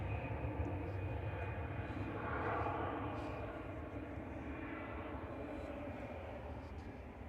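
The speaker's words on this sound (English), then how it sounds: "we've got another Ryanair coming in" A Ryanair Boeing 737-800 arriving at Manchester Airport gives a steady, faint broadband jet roar that swells slightly midway and holds for several seconds, distant and unbroken.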